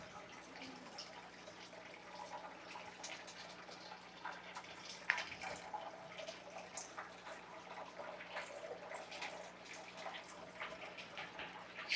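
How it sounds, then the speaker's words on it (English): Water runs steadily into a 900-gallon guppy tank, a soft continuous splashing wash with a few sharper drips and spatters, faint and even throughout. "Go ahead and start the water."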